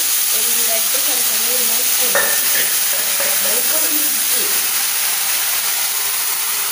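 Tempering of onion and spices crackling in oil in a pan, a loud, continuous close hiss and sizzle that holds steady throughout, with faint voices in the background.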